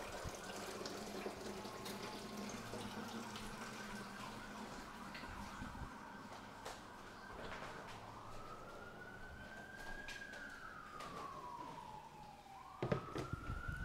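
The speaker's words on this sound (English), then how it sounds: "I'm just filling a container up with water right now." Tap water pouring into a big plastic trough for cyanotype printing, a steady rushing stream whose pitch rises as the container fills, then a brief splash and shift near the end.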